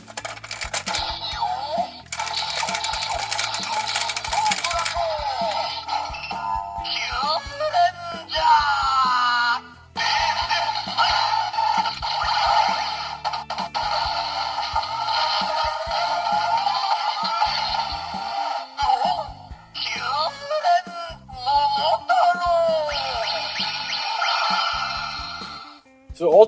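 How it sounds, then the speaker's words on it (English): A Kyuranger alter Avataro Gear toy from the Donbrothers line plays its unique electronic effects: dense, shrill synthetic tones and chirps run almost continuously at a steady level, with short gaps. "So that is the sound of all the Qtama lighting up"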